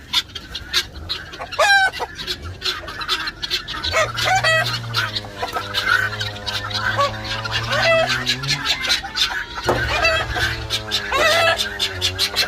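Chickens cluck and a rooster crows nearby, overlapping calls repeating throughout in a busy, close-up farmyard chorus.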